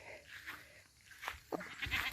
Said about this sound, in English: And I've moved the goats. And the goats have been milked.